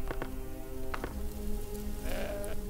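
Goat bleating in the video game Deponia Doomsday, two short wavering bleats near the start and a longer quavering one toward the end, over a steady background hum with faint rain-like patter.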